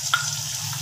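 Ginger garlic paste hitting hot oil for a spicy eggplant masala, a brief close hiss and sizzle with a small sharp tick near the start.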